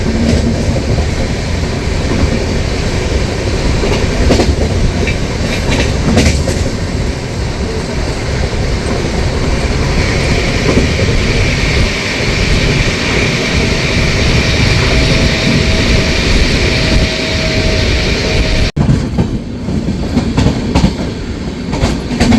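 The Darjeeling Mail passenger train runs at high speed with a dense, continuous roar of wheels and carriage rumble, faint rhythmic clickety-clack and occasional squeals. No one speaks.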